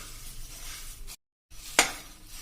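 Puffed rice (murmura) roasting in a pan as it is stirred, a soft continuous scraping rustle with a brief gap and then one sharper scrape or clink against the pan, close by.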